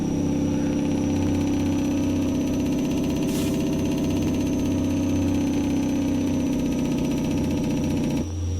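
Simulated Cat C-12 diesel in a heavy truck from American Truck Simulator, running steadily at a constant rumbling idle-to-cruise pitch throughout, loud and close, cutting off abruptly at the very end.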